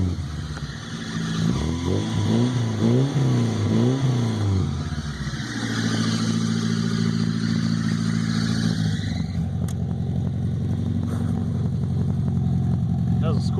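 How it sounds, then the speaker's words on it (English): A 1972 BMW 2002 with a Scorpion exhaust cranks with a rhythmic starter whir, catches and settles into a steady, fairly loud idle, its exhaust note holding close and even throughout. "So, car starts right up."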